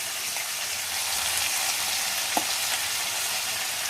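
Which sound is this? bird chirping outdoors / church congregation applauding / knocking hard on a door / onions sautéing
onions sautéing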